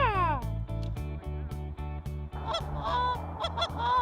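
Geese honk repeatedly overhead during a hunt over a decoy spread, a loud, busy chorus of overlapping calls with steady rhythmic low pulses running beneath.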